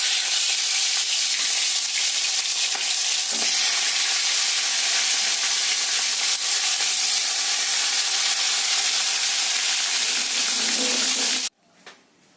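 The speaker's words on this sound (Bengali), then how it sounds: "ইলিশ মাছগুলো হালকা ভেজে তুলে নিলাম।" Hilsa fish pieces fry in hot oil with a steady, loud, dense sizzle that runs for most of the time and cuts off abruptly near the end.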